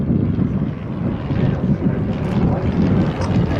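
A Rothmans vintage biplane with its smoke system running flies at an airshow, giving a steady, broad engine drone mixed with wind rush, moderately loud and continuous with no talk.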